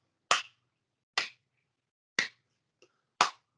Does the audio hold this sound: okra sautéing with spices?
no